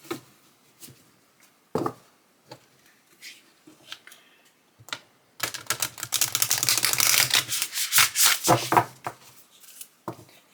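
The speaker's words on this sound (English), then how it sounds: "They shuffle nicely. They don't stick together." A Tree of Life oracle card deck is shuffled up close, first as a few scattered soft riffles and taps, then as a dense, crisp run of rapid card flicks that rises and falls.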